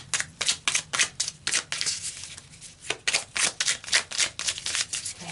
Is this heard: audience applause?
no